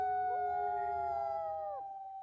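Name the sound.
wolf howl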